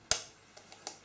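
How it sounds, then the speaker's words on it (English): Two eggs cracked one after another into a bowl for a chocolate brownie cake: one crisp, close crack near the start, followed by a few faint light taps and drips. "I'm just going to crack 2 eggs"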